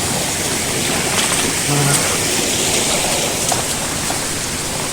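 Loud rushing water flows steadily up close in a Konkan village, a broad continuous wash of noise with a brief murmur partway through.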